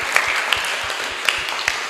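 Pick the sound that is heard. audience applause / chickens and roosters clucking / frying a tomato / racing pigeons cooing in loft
audience applause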